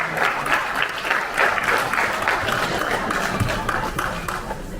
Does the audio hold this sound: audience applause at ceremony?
yes